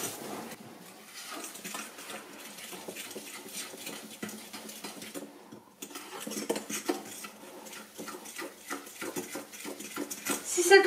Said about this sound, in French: Il faut continuer de mélanger jusqu'à ce que la mousse s'arrête